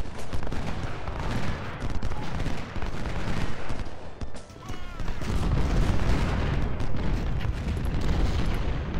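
Dense musket and artillery fire in Ultimate General: Civil War, a Civil War battle game, with rapid crackling volleys and heavy booms piling on each other, briefly thinning midway before surging back loud.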